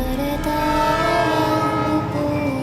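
A passenger train riding along its rails gives a loud, steady rumble with sustained tonal hum from the carriages, heard from inside the car with no speech.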